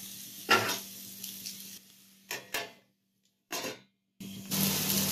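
Bitter gourd masala (pavakkai poriyal) cooks in a lidded pan over low heat, giving short bursts of sizzling and hissing separated by near-silent gaps, with a faint steady hum underneath and no voices.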